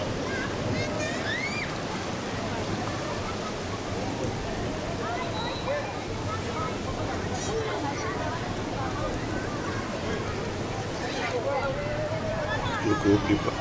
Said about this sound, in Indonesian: dengan adanya gemuruh ombak yang cukup besar.